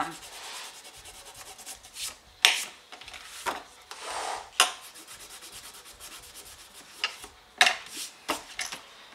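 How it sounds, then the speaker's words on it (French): An eraser rubbing out pencil measurement marks on a scrapbook card, heard as bursts of dry scrubbing strokes of varied length with short pauses between them, close and clear, with no talking. "Je vais tout de suite gommer les mesures."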